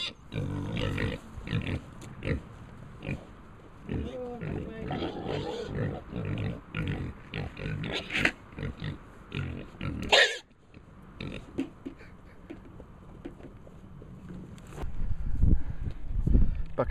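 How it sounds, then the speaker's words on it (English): Several farm pigs grunting and snorting in a steady, uneven stream close by, with a louder burst near the end; a feeding bucket and electric fencing are nearby, and a voice talks at times over the animals. "These are pigs."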